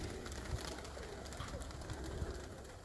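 Pigeons, including white Baku birds, cooing softly amid outdoor ambience, with a few faint low coos spread across a quiet background.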